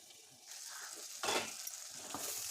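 Potatoes fry in a pan with a quiet, steady sizzle, and a brief louder scrape of stirring rises midway before the gentle hiss continues.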